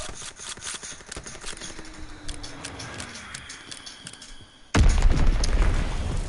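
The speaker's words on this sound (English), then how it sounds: "Enemy bomb incoming. Get to cover." An enemy bomb explodes in a video game, a sudden loud blast that erupts into a sustained roar after a stretch of quieter rhythmic tapping and thuds.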